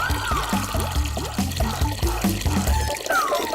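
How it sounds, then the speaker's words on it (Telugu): Water is released and pours out in a gurgling, bubbling stream with rhythmic glugging pulses, close and moderately loud throughout. "నీళ్ళు వచ్చాయి."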